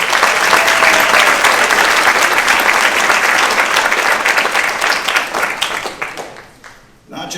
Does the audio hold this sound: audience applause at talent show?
yes